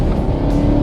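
A Chevrolet Camaro SS with a 6.2-liter V8 rumbles loudly and steadily up close, a deep continuous engine roar with no talking over it.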